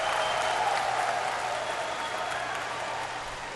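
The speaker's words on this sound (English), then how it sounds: "and you can hear the crowd." Crowd noise at a bare knuckle fight event, a steady dense roar of cheering and clapping from a large audience, heard at a distance and holding evenly before easing slightly at the end.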